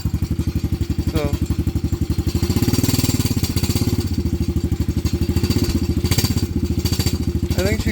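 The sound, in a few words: Venom Madix 125 motorcycle engine running with rattling exhaust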